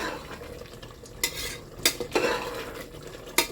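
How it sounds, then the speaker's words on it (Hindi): A spoon scrapes and stirs butt curry roasting in a pan, with soft sizzling underneath and a few louder clinks of utensil against metal, close and with no talk. "चलिए भूनते हैं बहुत अच्छी तरह से इसको।"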